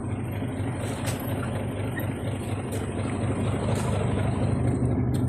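Low, steady engine rumble of a truck running, heard up close and continuous throughout, growing slightly louder toward the end, with no voices.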